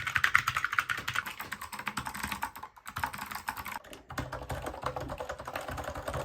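Three ergonomic keyboards, including the Kinesis Advantage 360, typed on in turn, giving steady, close clicks and clacks of rapid keystrokes with two brief pauses between boards.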